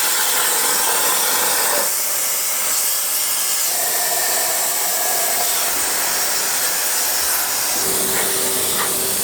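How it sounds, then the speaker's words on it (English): Plasma cutter slicing a steel bracket for a big block engine project, a loud, continuous roaring hiss with a harsh, sputtering edge that shifts in tone as the cut progresses, close and steady with no voices. "Gonna cut it out on a plasma cutter."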